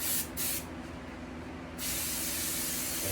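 Upholstery adhesive hisses from an aerosol spray can onto a plastic bag over a pontoon boat seat, two short bursts and then a longer steady spray, close and alone.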